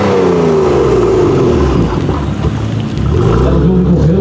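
A BMW M3 F80 fitted with an iPE exhaust revs loudly nearby, the engine note sweeping down and rising again with a deep, rumbling roar that fills the whole clip.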